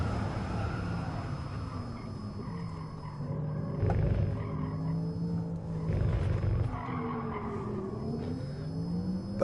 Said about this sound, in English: But if this is the way that Porsche's EVs sound on the inside, I kind of don't mind it.